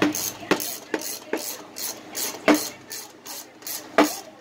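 Ratchet tightening a bolt on a Honda: a series of close, sharp clicking pawl bursts in a loose rhythm, about nine strokes, each with a short metallic rasp.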